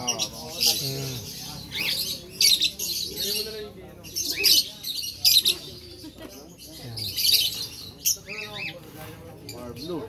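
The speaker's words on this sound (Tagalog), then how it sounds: "Konti na ng pakonti mga ibon." Many birds chirp and squawk in busy overlapping bursts close by, a noisy flock calling continuously with a voice mixed in.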